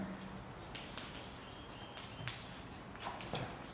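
Marker or chalk strokes on a classroom board during a physics lesson on electric dipoles, heard as soft scratching squeaks and short taps at a steady working pace, close and fairly quiet with no talk over them.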